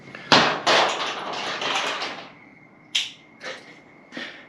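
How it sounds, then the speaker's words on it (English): Acorns drop onto a tin roof in sharp, loud metallic bangs, first a dense cluster and then a few scattered single hits that ring briefly. "The acorns are so loud on this tin roof."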